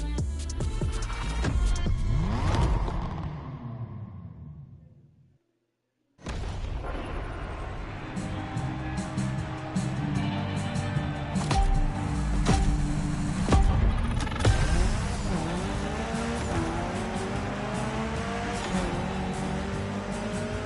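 A rebuilt Mitsubishi Evo 9 tears through a gymkhana run in The Crew Motorfest, its engine roaring loud and steady. The roar drops into a brief silence, then returns with heavy revving and booming thumps throughout.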